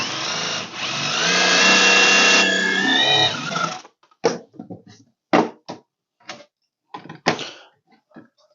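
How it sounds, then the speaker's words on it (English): A power drill with a step-down bit runs steadily for a few seconds drilling out a spot weld in sheet metal, then stops, followed by a series of short knocks and clatters with pauses between them. "I'm going to drill one of my spot welds out"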